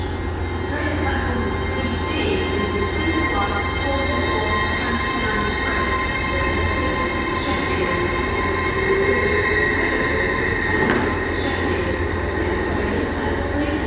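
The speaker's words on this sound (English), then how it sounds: "An excellent departure from LNER. Going to Newcastle." An LNER passenger train departs Doncaster station bound for Newcastle, its steady rumble and rail noise holding close and loud throughout, with a sharp metallic squeal near the end.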